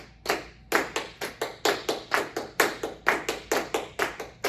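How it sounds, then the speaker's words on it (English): A group of people clap in an even, steady rhythm, about fourteen sharp claps spaced regularly, close and clear in a quiet room. "so someone clap 1, 2, 3, 4."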